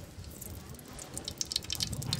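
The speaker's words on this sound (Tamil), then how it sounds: "சட்டி சூடாயிடுச்சு, இப்போ வந்து எண்ணெய் ஊத்திக்கலாம்." Sesame oil is poured into a hot pan in a village kitchen, making a faint liquid trickle and splatter that grows a little louder toward the end over low background noise.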